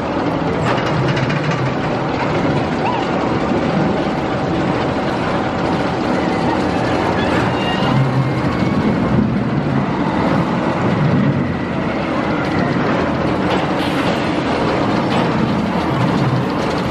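A Wild Mouse roller coaster at Kings Dominion, opened in 2002, rumbles along its track with a steady loud mechanical roar and rattling cars. Riders' voices are faint under the noise.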